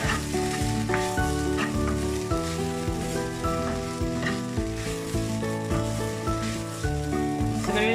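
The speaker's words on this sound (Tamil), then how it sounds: "லீக்ஸ் கொஞ்சம் ஆட் பண்ணுறேன். கொஞ்சம் வதங்கட்டும்." Curry leaves and sliced leeks sautéing in hot oil in a pan, giving a dense, continuous sizzle and crackle throughout, close and steady, with no talking.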